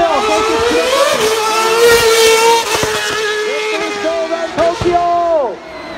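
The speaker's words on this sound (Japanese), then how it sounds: "さあ、ここでもう1回派手にアクセルターン" A Renault Formula 1 car screams through an accel turn on a Tokyo city street, its engine revving hard with sharp pitch swoops and crackling downshifts, loud and near, as a commentator calls the action over it.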